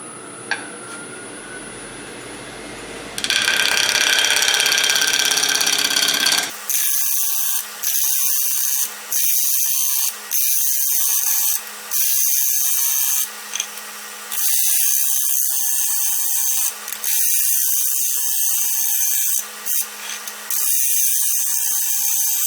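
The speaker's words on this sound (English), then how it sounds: "I'm going to start off with a bowl gouge" Wood lathe turning a white oak bowl with a bowl gouge: a steady high-pitched whir that rises loudly after a few seconds, then breaks into repeated rhythmic bursts of cutting with brief gaps between passes.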